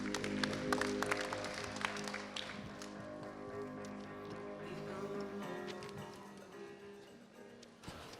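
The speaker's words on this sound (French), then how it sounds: "On l'attend et on l'applaudit en musique" Audience at a transport trade show applauding along with playing music, a thick wash of clapping that is strongest early and gradually thins, with steady tonal music underneath throughout.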